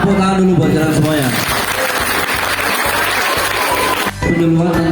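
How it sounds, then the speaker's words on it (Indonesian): Junior high school students clap together at an anti-drug outreach session, a dense burst of applause lasting several seconds between stretches of a voice talking. "Tepuk tangan dulu buat jalan semuanya."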